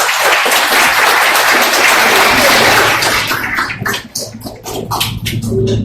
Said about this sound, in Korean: 큰 박수 한번 부탁드릴게요.